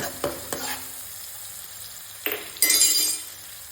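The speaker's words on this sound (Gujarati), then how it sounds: "લસણની ચટણી, આ રીતે આપણે સાતરતા જાશું" Garlic chutney sautés in a pan for Kathiyawadi vaghareli khichdi, with a soft sizzle under sharp clinks and scrapes of a spoon stirring, including a louder burst of frying near the end.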